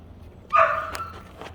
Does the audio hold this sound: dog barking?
yes